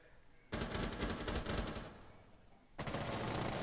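A Rainbow Six Siege-style 1v1 round with rapid automatic gunfire fired through a wall, two dense, loud bursts separated by a brief lull, harsh and close.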